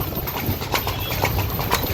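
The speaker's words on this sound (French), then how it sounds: "Sur une calèche." Horse hooves clip-clop steadily and up close as a horse pulls a carriage in Egypt, a continuous rhythmic trot over a rumbling, rattling ride with no speech.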